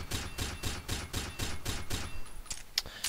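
A full magazine from an SR-25 Mark 11 sniper rifle fires in the shooter game Combat Arms, with about eight loud, evenly spaced shots followed by a couple of sharp mechanical clicks.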